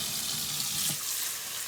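Tap water streams into an opened can of black beans held under the faucet for rinsing, a steady close hiss and splash that runs unbroken throughout.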